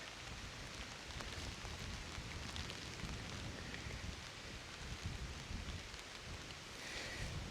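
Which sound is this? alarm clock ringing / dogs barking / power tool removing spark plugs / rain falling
rain falling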